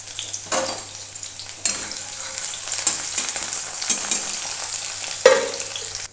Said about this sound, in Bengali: পেঁয়াজগুলো লাল লাল করে ভেজে